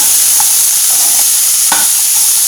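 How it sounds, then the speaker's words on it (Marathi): Green peas sauté in hot oil with constant stirring, giving a loud, unbroken close-up sizzle with a few faint utensil scrapes and knocks, no voices. "असं सतत आपल्याला हलवत राहायचंय. एक 5 मिनिट आपल्याला ह्या तेलामध्ये हा परतून घ्यायचा आहे."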